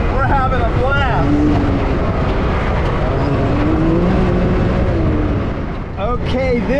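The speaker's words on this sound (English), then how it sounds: "there's some 2-foot potholes and this Can Am is just running right over the top of it" A Can-Am off-road side-by-side drives over two-foot potholes in the California desert, its engine droning loudly and steadily throughout, with voices talking over it in the cab.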